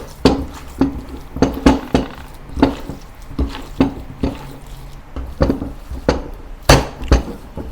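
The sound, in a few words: mixing pork, shrimp and spring onion wonton filling in a bowl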